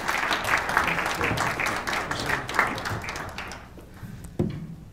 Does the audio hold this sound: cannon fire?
no